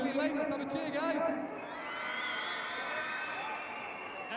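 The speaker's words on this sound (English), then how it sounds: "Let's have a cheer, guys." A crowd cheers at an athletics event, a burst of shouts and whoops over the first second and a half that then trails off into a softer, sustained cheer.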